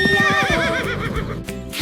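Horse whinnying loudly up close, a shaky rising and falling neigh lasting over a second, followed by snorting breaths and a few hoof clip-clops.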